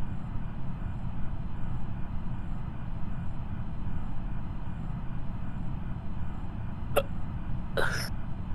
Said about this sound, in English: Anybody want to hear you hiccup?